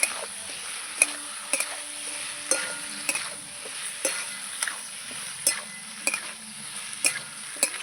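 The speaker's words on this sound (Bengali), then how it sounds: "মশলাগুলো ডাটা আলুর সঙ্গে নাড়াচাড়া করে কষিয়ে নেব আমি" Spices stir-fried with vegetable stems and potatoes in a pan, soft frying hiss under regular spatula knocks and scrapes roughly once a second against the pot.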